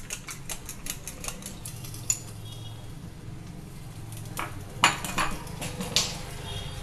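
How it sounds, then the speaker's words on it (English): Curd whisked vigorously in a bowl, rapid rhythmic tapping and clicking of the whisk against the bowl, close and fairly loud, with a few sharper clinks toward the end and no talk. "Whisk it vigorously. We have to whisk it like this."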